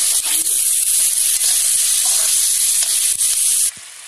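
Chopped tomatoes sizzling in a pan with cooked beans and carrots for vermicelli upma, a loud steady frying hiss with small crackles and stirring scrapes, dropping sharply quieter near the end.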